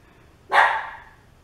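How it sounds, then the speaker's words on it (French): A dog gives a single sharp, close bark that rings out briefly and fades against a quiet background. "Le chien n'est pas content."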